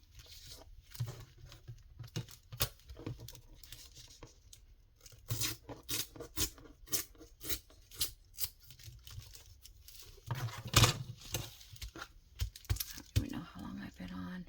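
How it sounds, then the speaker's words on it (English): Scissors snip and trim packaging and junk mail paper at a craft desk. The sound is quiet and close, with irregular crisp cuts and papery rustles, a few sharper snips coming in short clusters. "A lot of cutting and trimming, huh?"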